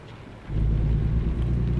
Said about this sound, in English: Lightning and thunder like crazy, folks.